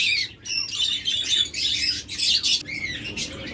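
Opaline budgerigar chicks chirp and squeak continuously in a busy, overlapping chatter, close by and fairly loud, with no talking.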